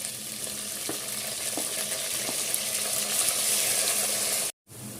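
Onions and slit green chillies sizzle steadily in hot oil for an egg aloo curry, a close, continuous crackling fry with faint stirring clicks and no talk before a brief cut near the end.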